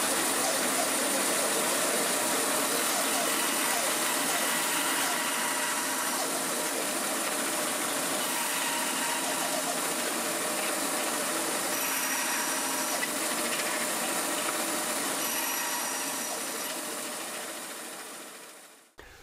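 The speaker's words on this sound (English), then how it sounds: "on the bandsaw, just cut out those corner notches" A bandsaw cuts corner notches into a wooden workpiece for a shelf pin router jig, giving a steady, dense whirring roar close by that runs unbroken for almost the whole stretch before cutting off at the end.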